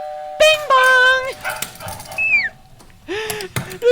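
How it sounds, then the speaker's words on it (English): A dog gives a series of high, whining yips and bark-like cries in quick bursts, mixed with excited human voices talking over it. "The dog!"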